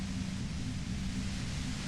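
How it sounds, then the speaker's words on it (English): Steady white-noise static from the game Disco Elysium hisses evenly across the whole span, with a constant low rumble underneath and no breaks or voices. "You hear through the white noise. It's especially bad suddenly."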